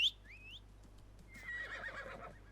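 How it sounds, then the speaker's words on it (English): A horse in the Assassin's Creed Mirage video game gives a short, high whinny at the start, then a softer snort and rumble follows a second later, fairly faint against quiet background hum. "we need a horsey"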